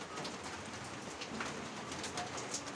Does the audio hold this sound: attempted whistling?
no